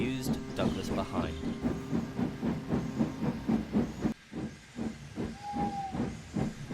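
A Western steam engine pulls away down a branch line with steady, quickening exhaust chuffs and a constant hiss of steam, and a brief whistle sounds near the end.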